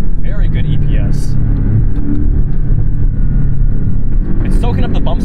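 A Porsche 718 Cayman GTS with a naturally aspirated flat-six drives on the road, its engine a steady, loud rumbling drone with road noise underneath someone talking throughout.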